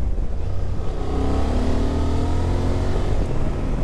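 A 2023 Honda XL750 Transalp adventure motorcycle is ridden through twisty Australian roads, its engine holding a steady, close drone that rises gradually in pitch as it accelerates, with no talk.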